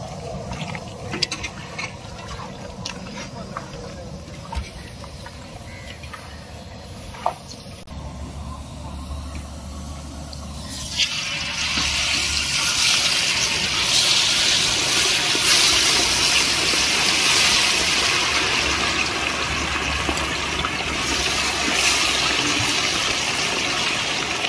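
Marinated chicken 65 pieces hitting hot oil in a large 5 kg batch, a loud steady hiss and sizzle that swells midway and holds, with faint low bubbling underneath and no talk.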